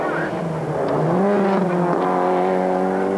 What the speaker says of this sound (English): is the Mitsubishi Lancer of Pascal Smets